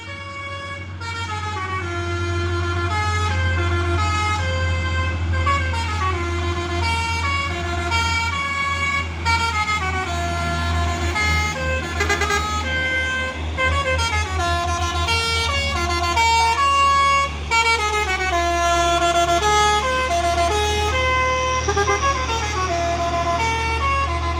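A Hino truck on the road sounds a loud, sustained Basuri musical air horn, playing a melodic multi-tone tune over a constant engine rumble, close and continuous for the whole stretch.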